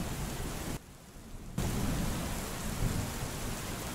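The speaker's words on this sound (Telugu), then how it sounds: "పైగా వర్షం చప్పుడు తప్ప ఇంకేవీ వినిపించడం లేదు." Heavy rain pours with a deep rumble of thunder as an effect in a Telugu audio story, a dense steady wash that briefly drops quieter before surging back, with no voice over it.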